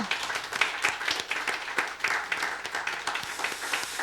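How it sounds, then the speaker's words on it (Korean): Congregation at a Korean church New Year's Eve service applauding to encourage a volunteer who did the flower arrangements, a steady wash of many hands clapping at moderate volume throughout. "자, 우리 박수로 격려합니다."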